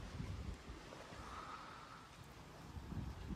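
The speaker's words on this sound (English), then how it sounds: "It's a bit windy." Wind gusts outdoors at an allotment garden plot, a soft, steady rushing roar buffeting the microphone, with low rumbles swelling near the start and end.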